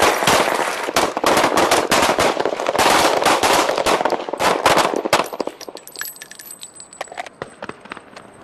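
Rapid volleys of firearm shots at a shooting range, loud and dense for about five seconds, then thinning into scattered single cracks and fading ringing, with no talking.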